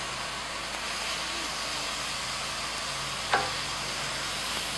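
Beef sizzles steadily as it browns in a frying pan, a continuous close hiss with one soft tap partway through and no voices.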